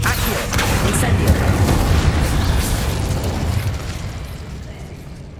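Incendio fire spell explosions in the Hogwarts Legacy video game: a heavy, rumbling blast that swells early and slowly fades over several seconds, with a voice nearby.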